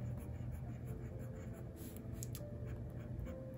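A Leonardo Furore Aquapetra fountain pen with a fine nib scratches softly across paper in quick, faint strokes, close and quiet over a low background hum.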